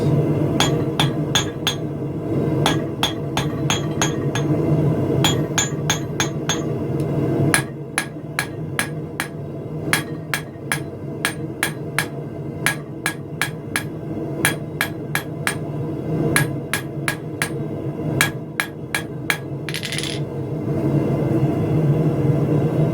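A hammer forges thin gas pipe stock on an anvil, striking in steady rapid bursts with bright metallic rings and short pauses between volleys over a continuous low rumble of background noise.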